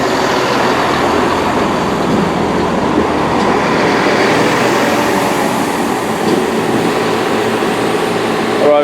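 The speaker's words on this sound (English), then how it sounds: "Arriving in now is 166214, running a service from Portsmouth Harbour to Cardiff Central." A class 166 diesel multiple unit pulls into Bristol Temple Meads station, its steady rumbling engine and rail noise filling the platform continuously and loudly with no talk over it.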